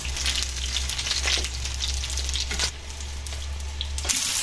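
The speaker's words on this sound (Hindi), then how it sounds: "और ये जो बकाया रह गए थे उनको भी इस तरह से फ्राई कर लेंगे हम।" Brinjal (eggplant) pieces fry in a pan, giving off a steady, dense sizzle with a low, constant hum beneath it. Nobody speaks.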